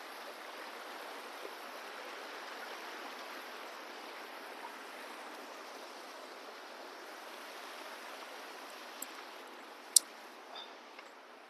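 A forest river near Jibhi in Himachal rushes steadily, a dense, even broadband wash of flowing water holding close and constant throughout, with a couple of faint sharp ticks near the end.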